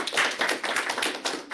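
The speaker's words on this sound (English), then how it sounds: "Applause here." A lecture audience applauds after a talk on finite element methods, a brief patter of clapping hands up close lasting just over a second.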